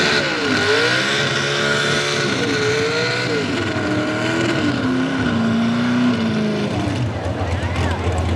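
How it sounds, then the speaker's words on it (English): A pro stock 4x4 pulling truck roars loudly at a truck and tractor pull in Western Pennsylvania, its engine pitch climbing and wavering under load before dropping off near the end, with an announcer's voice mixed in. "Pro stock truck class, we're going to make some noise now, folks."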